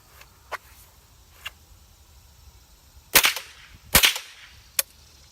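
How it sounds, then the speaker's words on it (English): A survival rifle fires outdoors: a few faint pops early, then two loud sharp shots with a short echoing tail about a second apart, followed by one smaller crack. "Let's try the survival rifle."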